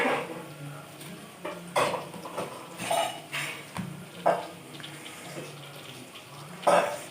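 Bitter gourd pickle being mixed by hand in a bowl, wet squelching and scraping with irregular sharp clinks against the bowl, close and moderately loud, with no talking.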